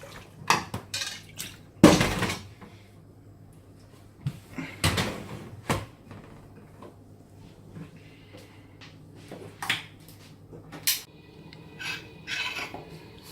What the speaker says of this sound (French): je viens la mélanger avec mon fouet pour écraser mes pois et mon ail